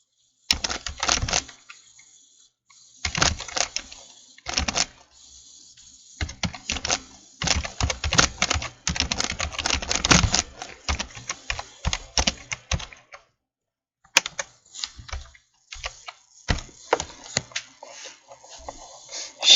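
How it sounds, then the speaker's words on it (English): Someone types on a computer keyboard resting on top of Belvita biscuits, with close, clattering bursts of keystrokes and short pauses between them, and a near-silent gap partway through. "I'm typing on top of Belvita biscuits at the moment."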